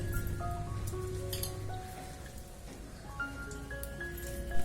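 Raw rice and moong dal are poured into boiling water in a clay pot for sweet pongal, giving a soft, continuous pattering and dripping like light rain, with faint tonal music in the background.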